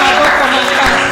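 A church congregation at a morning prayer service applauds loudly and continuously, a dense, close wash of clapping over a brief moment.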